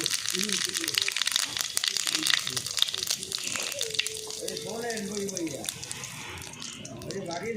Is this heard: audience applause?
no